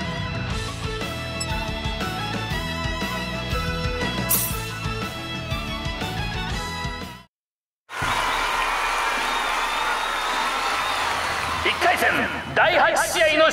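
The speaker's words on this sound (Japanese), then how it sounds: "熱い拍手をどうぞ。" Crowd applause at a tournament in Star Ocean The Second Story R, loud and sustained over game music, broken by a brief silence, then resuming with a voice over it.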